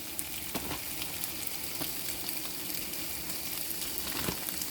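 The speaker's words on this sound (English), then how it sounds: "I'm just going to flip them over in the pan." Chicken sausage patties sizzle steadily in a frying pan, a continuous close crackle with a few soft clicks of the pan and no talking.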